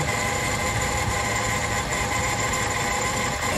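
Car air conditioning compressor with a worn bearing, a steady loud mechanical drone with a constant rumbling whine, close and unbroken throughout.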